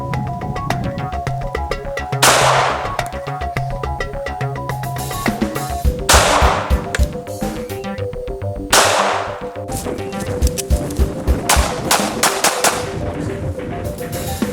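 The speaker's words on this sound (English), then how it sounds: "Gonna test with the H&K USP 45." Heckler & Koch USP .45 pistol firing full metal jacket rounds into water jugs; three loud sharp shots roughly three seconds apart ring out over steady background music.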